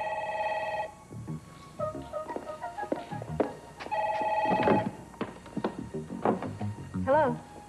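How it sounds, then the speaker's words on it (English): A telephone rings with a steady electronic tone during an outgoing call, followed by voices talking and further intermittent tones. "Mama has to make a phone call."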